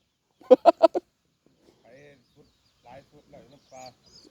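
A red junglefowl gives a short burst of four loud pulsed crowing notes, followed by quieter voices talking.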